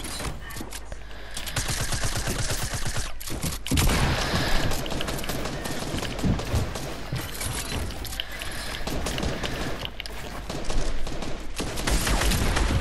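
Rapid gunfire in the Fortnite video game rattles in dense bursts and volleys throughout, with short pauses between clusters of sharp, repeated shots.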